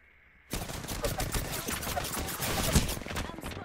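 Dense gunfire in the battle royale shooter Apex Legends during a ranked match, with rapid overlapping shots and bursts starting abruptly after a brief quiet moment, then continuing loud and sustained for several seconds.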